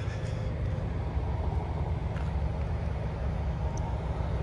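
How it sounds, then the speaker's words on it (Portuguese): Trucks and cars passing on a road in Alabama, heard as a steady, close, low roar of traffic with no clear pauses. "Tem caminhão pra caramba aí, ó."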